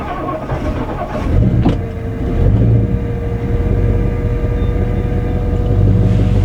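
A 1963 Ford Galaxie with a two-barrel carburetor idles while still cold, a steady low rumble with a slightly uneven, wavering tone, close and continuous throughout.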